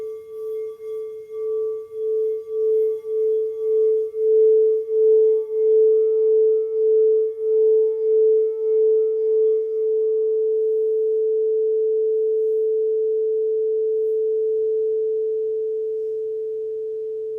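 A singing bowl rings with one steady, pure sustained tone that pulses gently at first, then slowly softens and fades, heard alone with nothing else.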